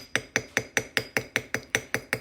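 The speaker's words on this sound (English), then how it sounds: "So I'm just going to use my ball peen hammer" A ball peen hammer texturing a plated metal hand-stamped charm, about a dozen sharp close metallic taps in a fast, steady rhythm, with no talking.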